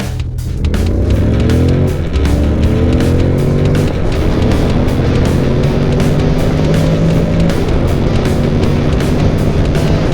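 Honda NC 750X motorcycle pulls away and accelerates through several gears, engine pitch rising in repeated sweeps that drop at each shift, loud and close with wind buffeting.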